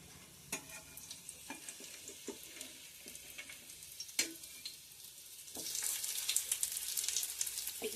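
A poha and spinach cutlet fries in a pan with soft, close sizzling, punctuated by sharp clicks and scrapes of a utensil against the pan, the sizzle swelling louder near the end.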